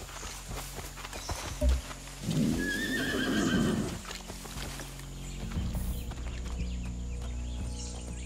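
A horse whinnies loudly with a rising, wavering call in a video game (Far Cry 6), followed by faint hoof clops against a steady ambient background.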